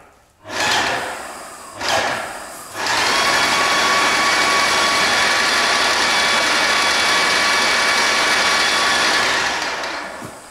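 Paint spray gun being cleaned out before spraying oil-based paint, giving two short bursts and then a steady loud hiss of air and spray that runs for about eight seconds before tapering off.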